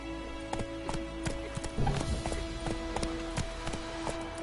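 A horse gallops in The Witcher III video game, with rapid rhythmic hoof clip-clops over a steady low background and a brief snort or whinny midway.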